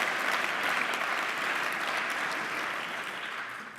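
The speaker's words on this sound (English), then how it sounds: "So let's give him an applause." An audience at a public conversation event breaks into full, steady applause, the dense clapping filling the room and slowly easing off toward the end.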